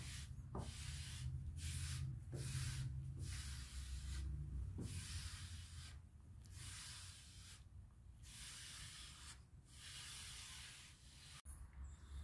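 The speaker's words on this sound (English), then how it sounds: "I'm going to go ahead and wipe everything off." Cloth rubbing excess wood stain off a custom wide wooden TV tray, a steady close hiss of wiping in repeated broad strokes with brief pauses between passes.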